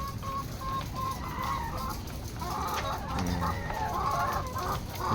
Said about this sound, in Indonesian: Ini ayam petelur.